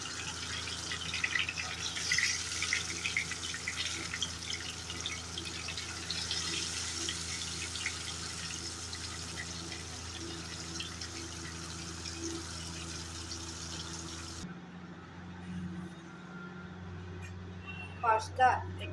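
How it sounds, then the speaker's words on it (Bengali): Fish frying in mustard oil in a pan gives off a steady, moderately loud sizzle that drops away near the end, followed by a few soft clinks. "এখন মাছগুলো ফ্রাই করে নেব।"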